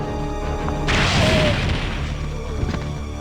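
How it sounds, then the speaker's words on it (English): A grenade blast in Resident Evil 3: Nemesis bursts out suddenly as a loud, deep boom with a crackling rush that rolls off over a couple of seconds against a steady low game backdrop. "Okay, yeah, toss a grenade."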